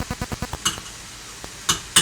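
An ingredient goes into a hot pan while cooking Thai-style green beans and potato: a quick series of soft clatters and stirring knocks, then a couple of sharper sizzling bursts, close and alone.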